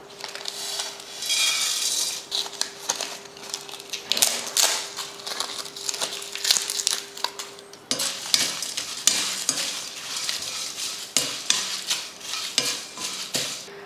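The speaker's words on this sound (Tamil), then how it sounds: "அடுத்ததாக நம்ம எடுத்து வச்சுருக்க ஸ்பைசஸ் எல்லாம் போட்டு வறுத்துக்கலாம்." Whole spices dry-roast in a pan, stirred continuously with a spoon that scrapes and rattles against the metal, producing a steady, close rustling crackle with repeated clinks and no talking.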